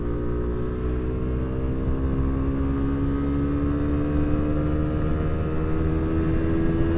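A 2018 Suzuki GSX-S motorcycle engine holds a steady, high-revving drone at moderate loudness, sustained without breaks and with no talking over it.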